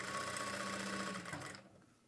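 A sewing machine stitches fabric in a steady, fast mechanical whir that runs loud and close for about a second and a half, then stops and trails off into quiet.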